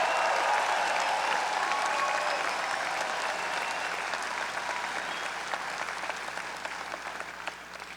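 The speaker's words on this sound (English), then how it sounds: "Let's give the class of 2026 a round of applause for their graduation." Commencement crowd applauding the graduating class, a dense sustained roar of clapping from a large audience that slowly tapers off over eight seconds.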